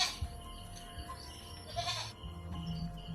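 A goat bleats nearby in a rural outdoor setting, with a few short wavering cries over a low background murmur and no clear talk.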